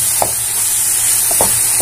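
Mango and ginger pickle being stirred with chili powder in a pan, a steady sizzle underneath with a few soft scraping strokes of the spoon spaced through the clip.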